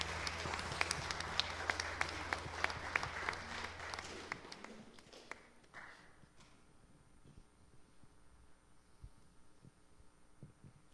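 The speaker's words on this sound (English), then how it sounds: "Could we just join together and give him applause?" A worshipping congregation claps together at a service, a loud dense burst of applause that fades out after about four to six seconds, leaving a quiet room with faint scattered sounds.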